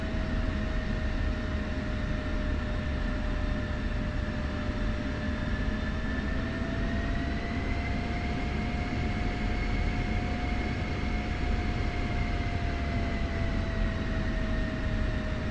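A steady, loud F-16C jet engine roar during its takeoff roll in the DCS flight simulator, a continuous whine with slowly rising tones, no voices over it.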